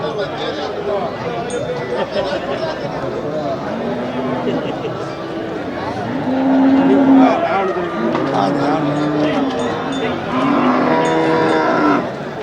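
Native cattle moo repeatedly at a busy cattle market in Melapalayam, with several loud, drawn-out calls rising above constant crowd chatter and nearby talk.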